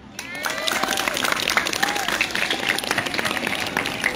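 Audience applause for student council election candidates at a high school debate, a steady crowd clapping throughout with some voices mixed in.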